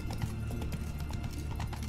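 A horse's hooves clip-clop in a steady, quick rhythm in Witcher 3 Wild Hunt, fairly quiet and continuous over a low game-world hum.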